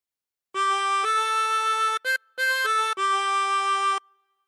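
A 16-hole tremolo harmonica plays a phrase of Amazing Grace as a few sustained, wavering reed notes, held one after another with brief breaks between them, clear and alone.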